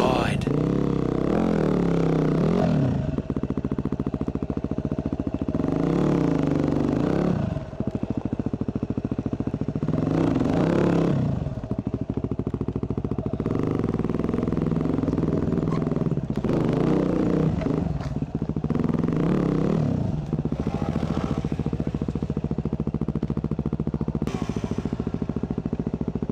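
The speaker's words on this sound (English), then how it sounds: "Finally, it was my turn to take my WR250, the beast, over to the other side." Yamaha WR250 enduro motorcycle working its way over a landslide, its engine surging and revving in repeated pulses at close range, with clattering from the rough ground.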